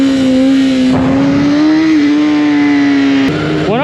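A 2026 BMW S1000RR race motorcycle engine revs hard on throttle, a loud close howl that holds and wavers, drops, then climbs sharply again at the end.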